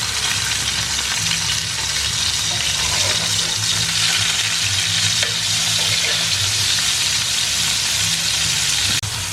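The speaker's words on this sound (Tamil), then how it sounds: "ஸோ இப்போ பேன் வந்து ஹாட் ஆகிடுச்சு. இதில் இந்த மின்ஸ்ட் மீட்டு, அந்த கபாப் எல்லாம் வச்சிடலாம்." Chicken keema kebabs of minced meat frying in a hot pan, a steady, loud, close sizzle with constant crackling hiss throughout, broken by a sharp tap near the end, and no talking over it.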